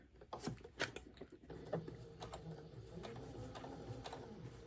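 A sewing machine back stitching a seam on a patchwork tote, a few quick clicks and thumps of the mechanism first, then a steady whirring run of stitches continuing to the end, quiet and close, with no talking.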